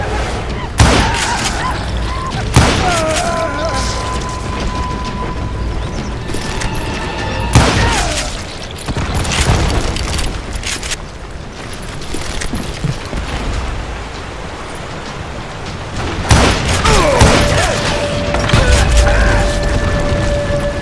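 Gunfire during a shootout in the Western game Call of Juarez Gunslinger, loud booming shots at irregular intervals over a constant rumbling, rain-like backdrop of game sound, with a narrator's voice woven through.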